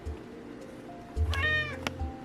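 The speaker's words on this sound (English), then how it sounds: "Meow. Meow." A house cat gives a single clear, drawn-out meow up close in a quiet room, with a soft short sound just after it.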